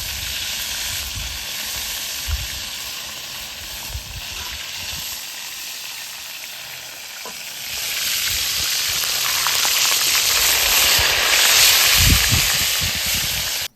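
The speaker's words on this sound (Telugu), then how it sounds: "మంచిగా డీప్ ఫ్రై చేసేసి క్రిస్పీగా చేసేసిన" Small crabs deep-fry in hot oil for crabs 65, with a continuous crackling sizzle that swells louder midway, plus a few soft knocks of handling.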